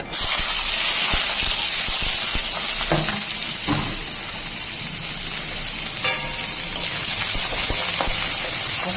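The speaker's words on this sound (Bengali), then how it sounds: "এবার আমি এখানে কেটে রাখা পেঁয়াজ আর রসুন আর লঙ্কা এবার দিয়ে দেবো এই তেলে" Chopped onion, garlic and chili sizzling in hot oil with black cumin. A steady, loud frying hiss runs throughout, broken by a few stirring scrapes and clatters.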